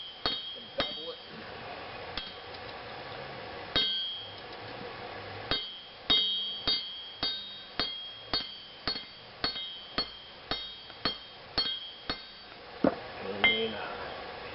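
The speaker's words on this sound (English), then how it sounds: "I bevel down with the hammer, so I'm actually hitting it at an angle" A hammer bevels a trap spring into a knife at the forge, ringing metallic strikes in a steady series of sharp clinks, some doubled with rebound taps, fairly close with quiet pauses between.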